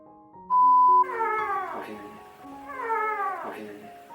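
A young kitten gives two loud, drawn-out, wailing meows while being bottle-fed milk, after a brief steady electronic tone at the start.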